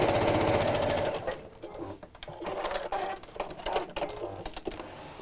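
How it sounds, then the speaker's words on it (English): Domestic sewing machine stitching the base of a drawstring box bag, a fast mechanical whirring run that slows and breaks into short bursts and clicks, close and fairly quiet. "carry on to meet where I started sewing."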